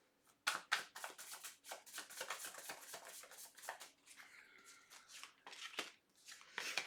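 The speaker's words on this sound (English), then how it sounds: "Let's take a look in, just dropping cards" Tarot cards are shuffled and dropped in a string of quick, close papery riffles and flicks, soft but crisp, continuing with brief pauses and no talking.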